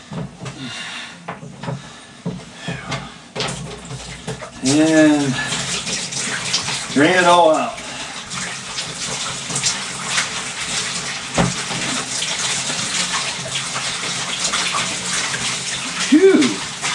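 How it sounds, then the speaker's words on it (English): Water splashes and gurgles inside a wooden whiskey barrel during a final rinse, a steady wet rushing broken by a few louder sloshing surges, close by with no talk. "Do a final rinse with water."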